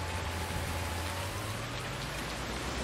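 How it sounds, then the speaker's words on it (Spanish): Steady rain falls continuously in the farming game Farming Simulator 19, a dense, constant hiss at night with a low engine-like hum beneath and no talking. "Y no para de llover"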